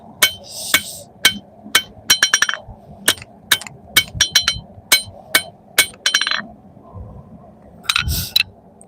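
Hammer blows forge the bevel of a splitting axe, with sharp ringing strikes landing close by in irregular groups and short pauses, some quick double taps among them, over about nine seconds.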